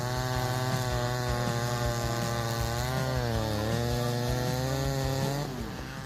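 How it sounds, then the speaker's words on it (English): A McCulloch 797 chainsaw with a 404 full chisel chain saws through a giant oak, its loud, steady high-revving engine whine holding throughout before dipping slightly near the end. "Let's see the wood sawing process of the McCulloch 797 125 sec machine, a formidable tool designed to conquer giant oak trees."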